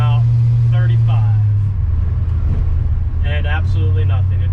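Crown Vic-swapped 1979 Ford F150 Lariat cruising at about 35 mph, a constant deep engine hum and road rumble from inside the cab, with someone talking over it.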